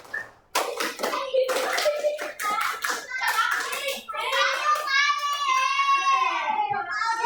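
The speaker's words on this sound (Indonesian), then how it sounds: "Satu kali tepuk pramuka." Children performing the rhythmic Indonesian scout clap, a quick series of sharp hand claps, followed by children's voices chanting and talking together.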